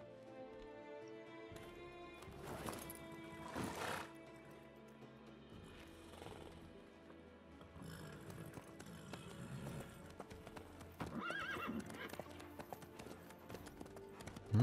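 Rhythmic hoofbeats of a galloping horse in the video game The Witcher 3: Wild Hunt, over a layered game soundtrack with music and effects, moderately loud throughout.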